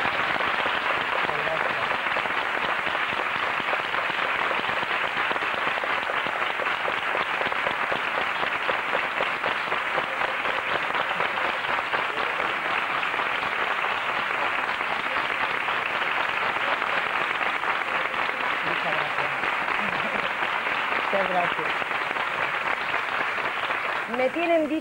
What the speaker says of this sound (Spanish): se dé el aplauso más fuerte y cariñoso de cuantos hayamos dado desde que se está haciendo estos programas